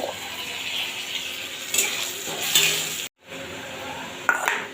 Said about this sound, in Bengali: চালটা শুকনো লঙ্কা তেজপাতার সাথে ভেজে নেব